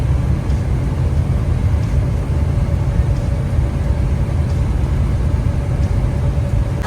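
Semi truck with a stepdeck trailer cruising on the highway, a loud, steady low engine drone and road rumble filling the cab, continuous and unbroken with no talk.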